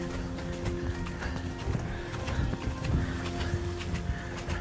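A ridden horse's hooves clip-clop in a steady rhythm close by, with several clear hoof strikes over a rumbling background, and the horse gives a faint whinny as it moves.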